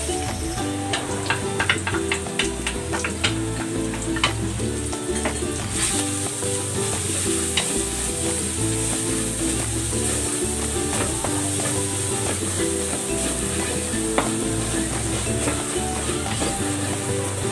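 Garlic sizzles hard in a frying pan, a dense continuous crackle with repeated clinks and scrapes of a utensil stirring it, close and loud without any speech.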